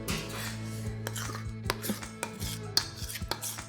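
A spatula scrapes waffle batter from a mixing bowl in a home kitchen, giving repeated close scraping and knocking strokes against the bowl over a steady low hum.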